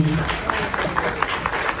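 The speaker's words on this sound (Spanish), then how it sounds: "Fuerte el aplauso." Audience at a lecture on the rights of nature claps after the talk, a short burst of scattered, fairly close clapping under a murmur of room noise.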